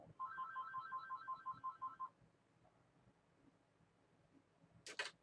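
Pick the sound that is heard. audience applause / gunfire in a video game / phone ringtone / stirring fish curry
phone ringtone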